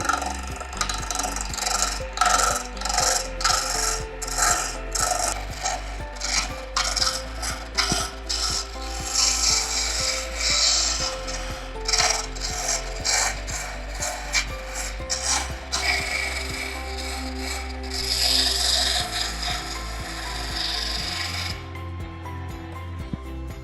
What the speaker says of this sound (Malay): Mula-mula kita guna pahat mata larik pak kuku ni untuk nak bulatkan.